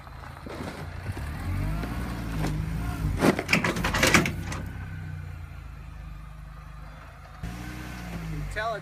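A car engine revs and strains nearby as the car drives up onto a tow dolly, with a burst of louder clanking and rumbling in the middle before it settles to a low idle, while a person talks over it.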